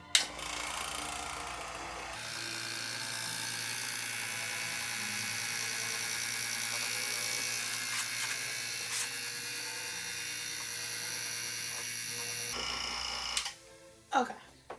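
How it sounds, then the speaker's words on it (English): A homemade vacuum chamber built from scratch runs with a steady, loud mechanical whine and hum for about ten seconds, then cuts out, with a brief rattle near the end. "we built a vacuum chamber from scratch. Now we're going to demonstrate it"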